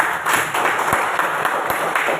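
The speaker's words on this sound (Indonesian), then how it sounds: "Kasih aplaus untuk Adi." Brief applause breaks out in a classroom, a short burst of many hands clapping at close range that lasts only a couple of seconds.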